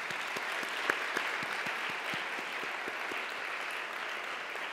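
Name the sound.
congregation applauding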